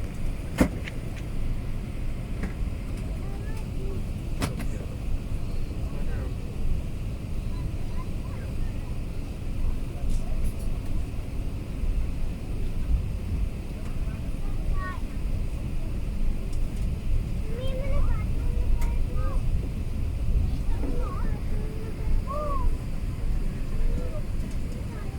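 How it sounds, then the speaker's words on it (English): Inside the cabin of an Emirates A380 taxiing at Heathrow: a continuous low engine rumble and airframe hum with occasional faint knocks and creaks, steady and unchanging. "So we are taxiing on the Alpha taxiway"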